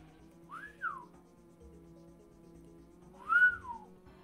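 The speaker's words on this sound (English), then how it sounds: "Feels like I'm like losing the ability to whistle." A person whistles two short tuneful notes, each sliding up and then down in pitch, spaced about three seconds apart over a faint steady background hum.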